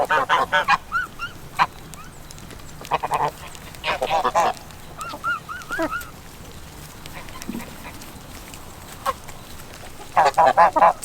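Geese honk in loud bursts, several calls at a time with pauses between, close by and clearly audible over a quiet background.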